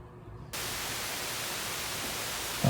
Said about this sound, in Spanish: Este sería el ruido blanco.